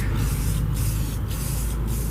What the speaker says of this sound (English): Spray and go all the way across.